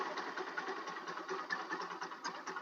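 Rusi Macho TC150 motorcycle engine idling with a new tri-electrode spark plug, a steady, fast rhythmic putter close up, running alone at a fairly even level.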